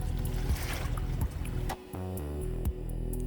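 A Nacra 570 sailing catamaran picks up speed in light wind at the Kiel Week windjammer parade. Steady rushing water and hull noise run under faint tonal hums, with no speech.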